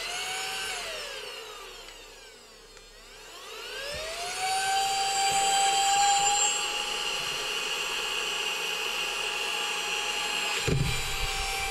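Silvercrest mini cordless handheld vacuum cleaner from Lidl, its high motor whine winding down, dipping, then spinning back up to a steady loud whir with shifting pitch and a brief knock near the end.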